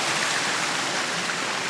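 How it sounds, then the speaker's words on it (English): A small creek flows along a walking route near Wanlockhead in Scotland, a steady close hiss of running water filling the short moment without any voices. "That beautiful little creek."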